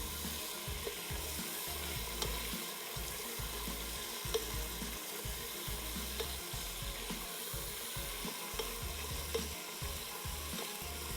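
Chicken sautés in hot oil with salt, a continuous close sizzle with occasional stirring scrapes, no voices.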